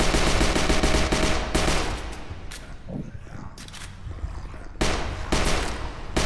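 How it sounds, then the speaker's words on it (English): Gunfire in the HordeZ VR video game, rapid automatic bursts at the start, a quieter stretch of scattered shots, then more loud bursts toward the end. "Selective shooting."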